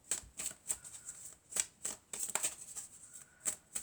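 Tarot cards shuffled and drawn at close range: a run of crisp, papery riffles and slaps in irregular bursts with short pauses between, quiet and alone with no voice over it.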